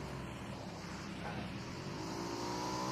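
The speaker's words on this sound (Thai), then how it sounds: "เฮ้ยรถมารถมา" A car on the road draws closer with a steady, rising engine drone and tire roar, growing slightly louder over a few seconds.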